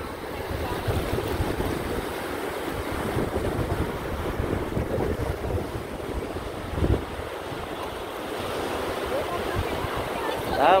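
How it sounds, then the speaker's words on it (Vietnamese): Steady wind rushes across the sea at a Florida beach, buffeting the microphone with constant low roaring noise and a faint wash of surf throughout. "Bữa nay có gió, biển có gió."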